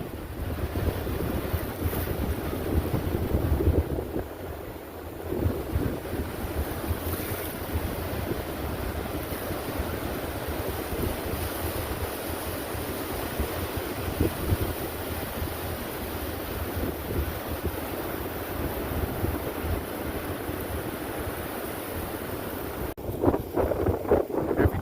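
Ocean waves wash in steadily at a beach on a cool day, close to the water, while strong wind buffets the microphone in a continuous roar with occasional gusts.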